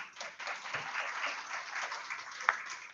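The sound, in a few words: audience applause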